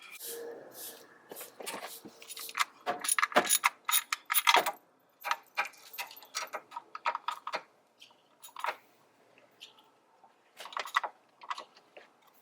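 Removing two 10mm bolts from a transmission cover on a Honda Accord, heard close up as scattered clicks, ratcheting ticks and metallic taps in uneven bursts with short pauses between, fairly quiet and with no talk.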